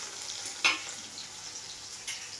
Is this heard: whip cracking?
no